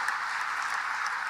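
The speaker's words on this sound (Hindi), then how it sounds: "हमारे देश की यशस्वी प्रधानमंत्री के लिए जोरदार ताली बजाओ।" An audience at a Bhopal event applauds for the Prime Minister, a brief dense wash of clapping from a crowd, steady and without distinct voices.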